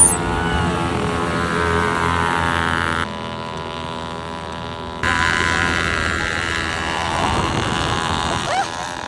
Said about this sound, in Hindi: यहाँ हुई फिर क्वाड बाइक की रेस।